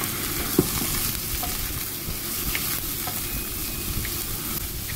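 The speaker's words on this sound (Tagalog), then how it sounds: "Halu-haluin, halu-haluin lang natin hanggang sa lumambot." Seafood, mushrooms and tomato fry in a pan while being stirred, a steady close sizzle with occasional soft scrapes and clinks of the utensil.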